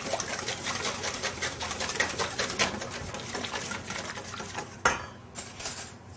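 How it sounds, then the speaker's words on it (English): Eggs, milk and corn syrup whisked in a mixing bowl for chocolate-raspberry cupcakes, rapid rhythmic metal whisk clatter against the bowl, close and steady, then a few sharper taps near the end. "We're going to whisk all that together, making sure that you're breaking up the egg yolks."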